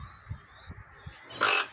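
A toucan calling, with a few low soft croaks followed by one loud, harsh, brief squawk near the end.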